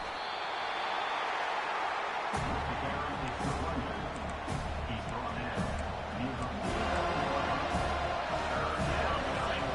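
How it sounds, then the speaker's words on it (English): A home crowd roars in the NCAA 25 college football video game as the defense tries to get off the field on third down, a loud steady stadium wash swelling from about two seconds and holding to the end. "Here comes this home crowd as the defense tries to get off the field on 3rd down."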